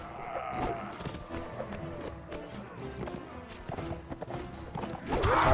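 Horse hooves clip-clop in steady, rapid beats during a ride in Mount & Blade: Warband, mixed with battle clatter and game noise, with a swell of louder sound at the end.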